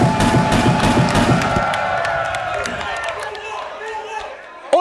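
A crowd cheers for a rapper at a freestyle rap battle event, a loud, dense roar that carries on beneath a voice speaking over it, then thins and fades toward the end.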